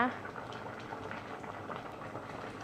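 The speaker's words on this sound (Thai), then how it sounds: "นี่กระดูกหมูเห็นไหมคะ เคกำลังเดือดห่อนอยู่เลย" Pork bones boil in a pot of Thai bamboo shoot curry, a steady close bubbling and popping that runs without a break under a woman's speech.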